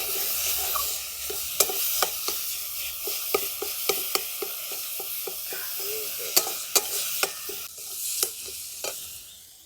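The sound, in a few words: turmeric, coriander and cumin spices being stir-fried in pan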